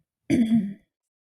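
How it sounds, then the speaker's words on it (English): A single short, gruff throat clearing, close and fairly loud, lasting about half a second between silences. "let me clear my throat"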